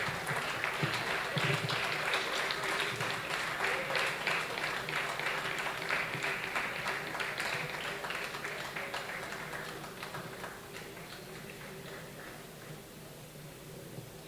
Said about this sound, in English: Let's keep giving them a round of applause till they get here.